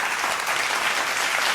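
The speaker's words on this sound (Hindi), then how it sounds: "बहुत सारी तालियां टीम ए के लिए।" A studio audience applauds the winning team on a Ramadan game show. The clapping is loud, dense and continuous, with no speech over it.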